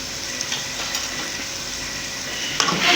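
Almonds tossed into roasted halwa in a pan and stirred, a continuous close frying sizzle with soft stirring scrapes and a brief louder rustle toward the end.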